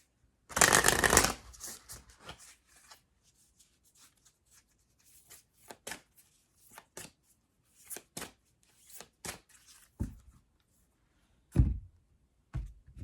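A deck of oracle cards is shuffled close by, starting with a loud riffle burst and followed by scattered soft taps and slides as the cards are handled, with no talking.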